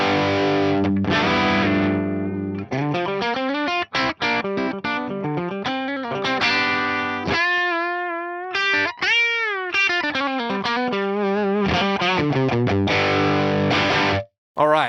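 An electric guitar runs through an Axe-Fx III amp modeler with heavy distortion and intermodulation, playing chords and sustained bends with reverb and chorus, loud and continuous with a few brief pauses.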